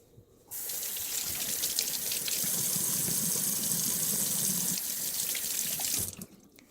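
Kitchen tap runs steadily while hands are washed, a close, even rush of water lasting about six seconds before shutting off.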